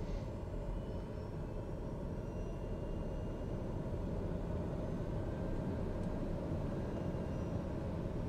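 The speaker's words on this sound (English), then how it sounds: "Canyonlands traffic, TBM930 departing runway 21" A TBM930 turboprop aircraft departing runway 21 at Canyonlands airport, heard from inside as a steady broadband engine and propeller roar, continuous and even, with no talking.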